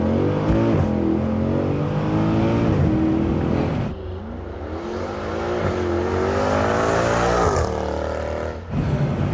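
Mercedes C63 AMG 507 coupe engine accelerating hard, with rising harmonic sweeps broken by quick upshifts around four and eight seconds; loud, close and steady throughout, with no talk.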